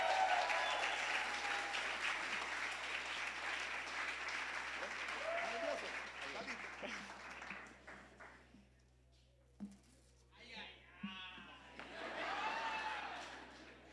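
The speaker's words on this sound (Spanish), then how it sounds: "Denle un fuerte aplauso." A church congregation claps for a preacher taking the platform. The applause is steady for about eight seconds, then fades into scattered sounds and brief murmurs.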